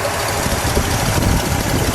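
A 1972 Lincoln Continental Mark IV with a Ford 460 four-barrel V8 runs at a steady idle, a loud, close, continuous rumble with an even throb and no talking.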